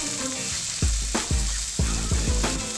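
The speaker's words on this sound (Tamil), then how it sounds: "நாம் வெங்காயம் நல்லா ஃப்ரை பண்ணிக்கணும்." Onions frying in a pan for an okra masala curry, a steady sizzle with several loud stirring scrapes and clatters spaced through it, close up, with no talking.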